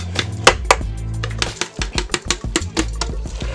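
Jambalaya ingredients and three cups of rice mixed in a Power Pressure Cooker XL pot: a loud, close series of knocking spoon strikes and scrapes against the pot in an uneven rhythm.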